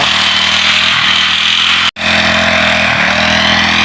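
A loud, high-revving motorized grass trimmer cutting grass whines steadily up close, cutting out for an instant midway before roaring back.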